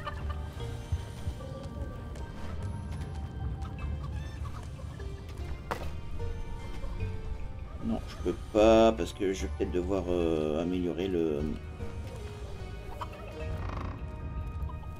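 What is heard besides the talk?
turkeys in the video game Dungeons 4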